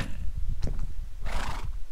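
A horse in Minecraft gives a short whinny with a few soft hoof clops, close and fairly clear against a quiet game background.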